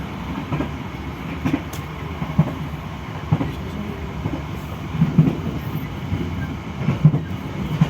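Motis economy passenger train running on rails between Cirebon and Purwokerto toward Cirebon Perujakan station, a steady low rumble with rhythmic wheel clacks and thumps on the track, heard from aboard the carriage with no talking.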